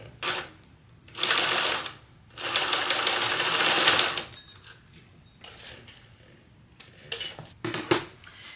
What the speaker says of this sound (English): now I'm going to go and baste this on at 1/4 of an inch seam allowance